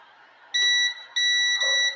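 An LG RAD125 sound system under repair gives its capacitor-charging beep: two high, pure electronic tones, each about half a second long and close and clear, over a faint background hum.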